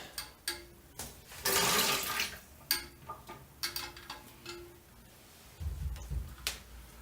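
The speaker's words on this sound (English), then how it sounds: "Now I'm just going to pour any last little bit of water into my bucket." Leftover water from a toilet tank, emptied during a flush valve replacement, is poured into a bucket in short splashing bursts with quiet gaps and clunks between them, close by and fairly soft.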